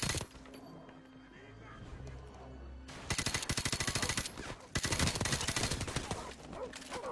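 Machine gun fire in a Call of Duty: Modern Warfare Remastered multiplayer match, with a quieter stretch of distant noise and talk before two long, loud, rapid automatic bursts rattling close.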